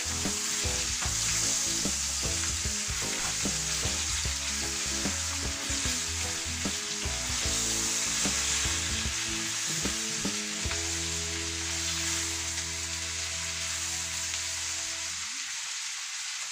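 Quails sizzle and crackle steadily in a hot frying pan, with close stirring and shifting noises as the birds are turned, then the frying settles into a smoother hiss near the end.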